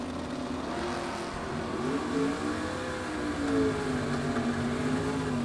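A Camaro and a 1968 Ford Mustang drag racing side by side, their engines revving and rising in pitch in a loud, steady roar with no voices.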